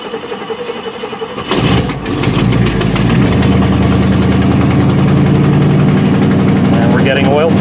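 A Buick engine with a bad exhaust manifold gasket cranks and catches, then settles into a loud, steady high idle with a raspy, ticking exhaust note, heard close up.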